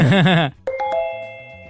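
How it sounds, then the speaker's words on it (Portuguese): A small bell chime rings out, bright ringing tones that start just after a voice cuts off, then sustain and slowly fade as a clear, close sound. "Eu tô escutando aquele sininho, que vai vir um sininho aí."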